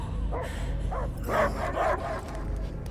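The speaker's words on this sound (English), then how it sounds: "I hear only barking." A dog barks in the Guardians of the Galaxy video game: several bright yips and barks in quick succession over a steady low in-game rumble.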